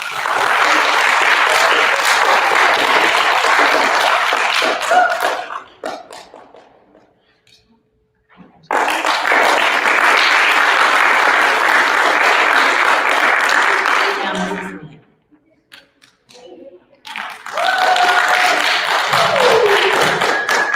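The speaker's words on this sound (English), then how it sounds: "I love watching you all applaud each other and cheer each other on to success." Students applaud at a fourth-grade school awards assembly, with two long bursts of steady clapping separated by a short lull and then a third burst starting near the end, loud and close throughout.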